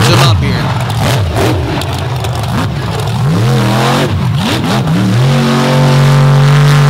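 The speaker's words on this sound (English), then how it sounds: "the guttural thunk of that big Chevrolet engine" A big Chevrolet engine in a jump vehicle at a Naples event revs repeatedly, loud rising and falling roars that settle into a steady high drone, with a voice talking over it.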